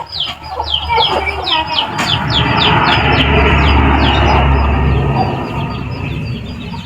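Village chickens cluck and peep nearby in a rural Thai yard, a busy flock chattering steadily for several seconds over a low rumbling background, with no talk.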